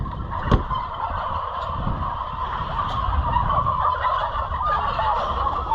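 A flock of farm turkeys gobbles and chatters continuously, many birds at once, over a steady background hum and a sharp knock near the start.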